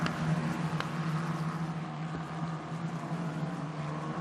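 Formula 4 race cars sweeping through a turn at Sepang circuit, a steady distant engine drone holding for several seconds with no voices.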